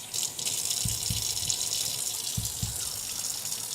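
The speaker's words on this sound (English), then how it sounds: "just gonna rinse this" Running tap water splashes steadily as an item is rinsed under it in a sink, a close continuous hiss with a few low knocks of the item against the basin.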